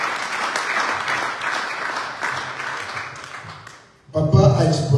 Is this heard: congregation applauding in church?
yes